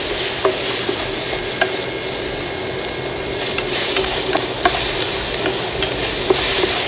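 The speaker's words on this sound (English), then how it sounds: "Just want to stir these up until they're translucent." Scallions sizzling steadily in a hot pan while being stirred, with soft scraping and clicking of the utensil against the pan throughout, close and fairly loud, no talking.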